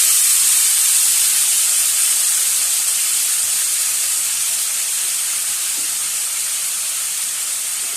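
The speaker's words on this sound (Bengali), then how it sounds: "এবার দিয়ে দেবো মেখে রাখা মাংসটা" Marinated chicken tipped into hot oil spiced with whole cumin, cardamom, cloves and garam masala, giving a loud, steady, close hiss of sizzling that holds evenly throughout.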